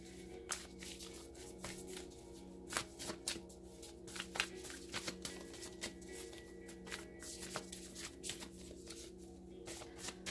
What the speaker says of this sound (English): I like to give it a good shuffle and see if one will pop out